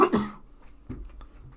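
One loud, close cough bursts out at the start, followed by quieter throat sounds and faint breathy noise as the person settles.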